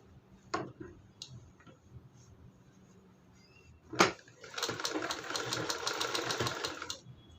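Sewing machine stitching a round seam in fabric: a few isolated clicks and taps, then a sharp knock before a steady rapid mechanical whir of running stitches for about three seconds, fairly close.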